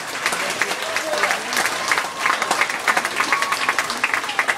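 Loud applause from an audience at a bear show at Clark's Trading Post, steady clapping with a crowd murmur running through it for several seconds.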